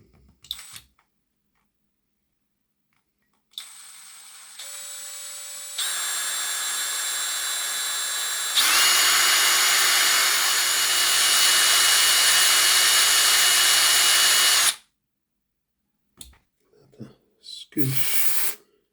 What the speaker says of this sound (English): I'm just going to put some oil on the drill bit